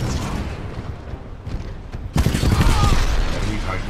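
Titanfall 2 combat with rapid gunfire and heavy blasts. A quieter passage of scattered shots gives way to a sudden loud, dense barrage of explosions and sustained shooting close by.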